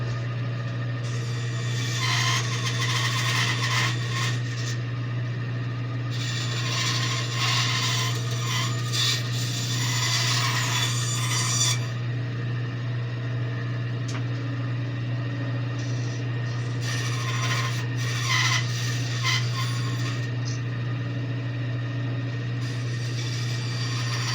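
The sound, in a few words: hand sawing out a wooden wolf blank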